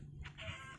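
Minecraft chicken clucking in a One Piece survival game, a short close cluck or two heard alone without talk.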